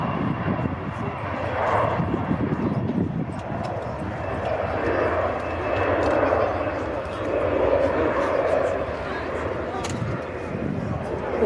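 Airliner on the runway at Manchester Airport, a loud sustained jet engine roar swelling and easing, heard from the runway visitor park while someone talks over it.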